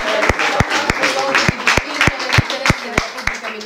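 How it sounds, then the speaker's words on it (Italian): Applause at an oath-taking ceremony: a small group claps in a loose, even rhythm of sharp, close claps with voices murmuring underneath. "Un altro applauso."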